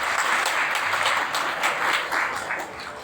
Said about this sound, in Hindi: तालियां बजाइए इन सब के लिए।